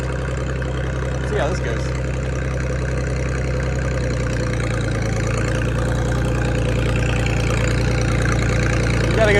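An International 560 tractor with a loader idles close by in a steady, low, rumbling drone that stays loud and even throughout, while a person speaks briefly over it.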